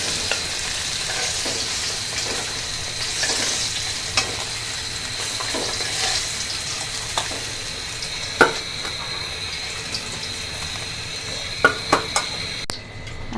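Small koi fish frying in hot oil, a continuous close sizzle with occasional clinks and scrapes of a utensil against the pan, no voices.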